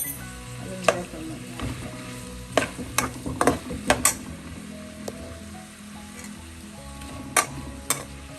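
Onions sautéing with salt in a kadai for kadai chicken, a steady close sizzle broken by frequent clinks and scrapes of a spoon against the pan, with no voices over it.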